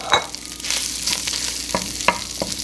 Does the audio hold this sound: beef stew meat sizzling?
yes